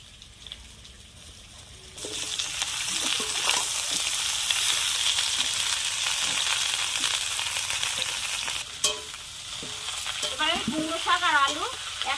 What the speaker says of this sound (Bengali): আলুটা ভাজা ভাজা হয়ে গেছে এবার আমি কুমড়ো শাক দিয়ে দিচ্ছি